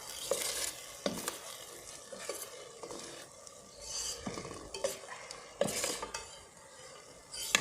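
Thai fish head red curry with coconut milk simmers hard in a pot, with bubbling and sizzling under repeated scrapes and clinks of a utensil stirring against the metal.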